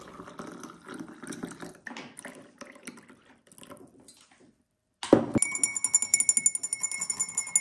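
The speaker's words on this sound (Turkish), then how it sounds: "Bir bardağın içerisine koyuyorum ve üzerine 200 mililitre kaynar su ekleyeceğim." Boiling water poured into a glass, starting with faint handling clinks, then after a pause a sudden splash and a rising, ringing gurgle as the glass fills, close and clear without talk.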